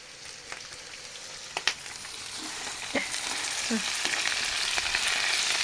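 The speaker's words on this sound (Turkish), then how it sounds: "Kıymasını suyunu çekene kadar kavurduk" Minced meat with onions frying in oil in a pan gives a steady sizzle that grows gradually louder, with a few sharp pops and stirring scrapes.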